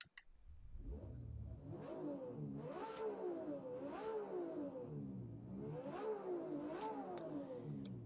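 A BMW M1 Procar race car engine in a racing video game on the Nordschleife, revving hard through repeated rising gear pulls, each climb ending in a quick shift, loud and close with no talk.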